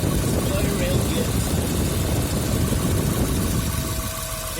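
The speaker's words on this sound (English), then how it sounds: "The radiator fan just came on." A car cooling fan whooshes steadily under a restoration car's idling engine, a loud continuous broadband rush with a low engine hum that eases slightly near the end.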